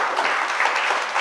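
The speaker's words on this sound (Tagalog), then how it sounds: "O, palakpak naman natin sa Lord doon." A church congregation breaks into steady applause, a dense wash of many hands clapping at moderate volume throughout the brief moment, with no distinct voices rising above it.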